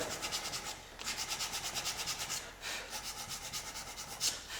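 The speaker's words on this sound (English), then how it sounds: "We'll go ahead and use this little stick with some sandpaper on it." Sandpaper wrapped on a small stick rubs back and forth over a wooden guitar neck in quick, steady rhythmic strokes, close and fairly loud, with brief pauses between runs.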